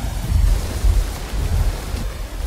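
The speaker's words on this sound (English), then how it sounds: "The rain falls hard." Steady, heavy rain of the tropical wet season roars over a reef with deep low rumbles of thunder rolling underneath, dense and close throughout.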